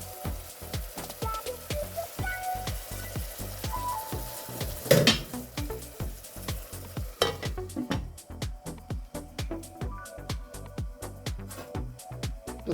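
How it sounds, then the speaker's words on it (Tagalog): Braised tenderloin chicken in a pan gives off a steady sizzle and bubbling, with a rhythmic series of stirring scrapes and one sharp clink of a utensil against the pan, all close and fairly quiet. "Tapos pakuluan lang natin ng kaunti."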